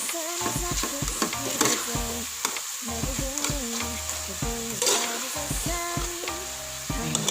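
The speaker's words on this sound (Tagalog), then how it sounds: "Pag ganito na yung kamatis, pag medyo ano na siya, na mash na, i-mash natin ng konti." Tomatoes being mashed and stirred with a ladle in a sizzling pan while cooking pinakbet, with steady scraping and frying crackle, close and continuous, with no talking.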